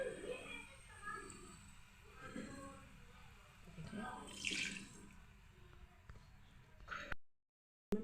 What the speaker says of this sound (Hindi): मैंने इसमें अच्छा सा पानी शामिल कर दिया है, 5 से 6 गिलास